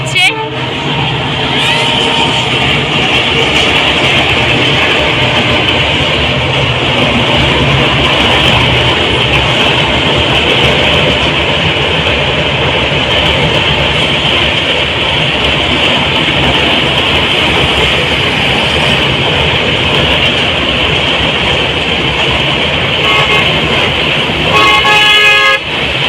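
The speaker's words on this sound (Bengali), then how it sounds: "ট্রেনটা ঢুকছে" A train arrives and passes over a river bridge with a loud, sustained rumble and repeated horn blasts that carry on throughout, with a final burst of horn near the end.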